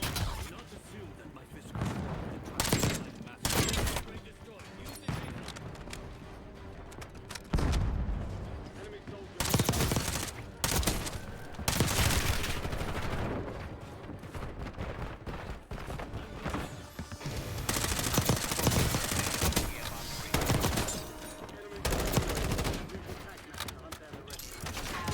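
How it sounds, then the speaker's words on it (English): Heavy explosions and bursts of gunfire in the Warzone battle royale game, with loud booms and rapid volleys recurring throughout, some near and some distant, while a player talks over the action. "But why are there so many explosions going off?"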